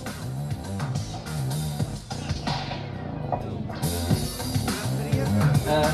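Dense electronic dance music with a stuttering, repeated beat section from a roll effect on a Roland AIRA MX-1 mixer, cutting in and out, loud and continuous throughout.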